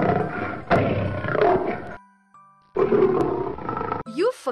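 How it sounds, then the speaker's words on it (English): A loud, rumbling roar of a big cat surges twice, with a brief quiet gap between and a short higher squeal at the end. "A lion, ho-ho, it roars."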